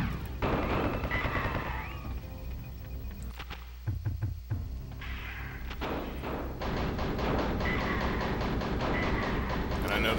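Enemy gunfire in the video game Duke Nukem: Time to Kill, rapid bursts of shots and thumps over a dense game soundtrack, with a brief gap of sharp separate hits midway.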